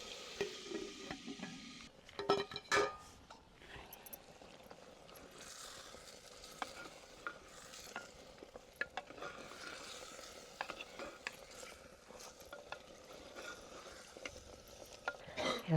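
Mutton cooking covered in a clay handi gives a steady low simmering bubble and faint sizzle throughout, with scattered small clicks and scrapes of the pot, fairly quiet and without voices.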